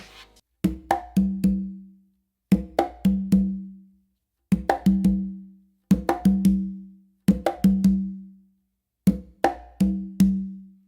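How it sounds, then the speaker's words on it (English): Six repeated phrases of hand-drummed conga in a bomba feel, each a sharp close slap followed by ringing open tones, separated by short pauses, close and clear with no talking. "you're going to do a close slap on the conga."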